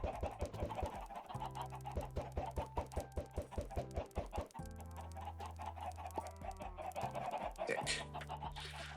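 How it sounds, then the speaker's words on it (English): Minecraft chickens cluck continuously, the clucks in a steady rhythm over a looping, buzzy game soundtrack. "don't hear constant clucking all the time."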